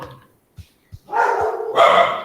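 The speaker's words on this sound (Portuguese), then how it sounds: "Talvez as cachorras atrapalhem um pouquinho" Dogs bark indoors in a home during an online class. A few short, soft yips come first, then a burst of loud, close barking fills the last second or so.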